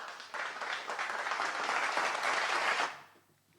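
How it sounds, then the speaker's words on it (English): Applause from a small audience at a conspiracy-themed talk show, a burst of clapping that rises quickly, holds steady for nearly three seconds, then fades out. "I just wanted to applaud you."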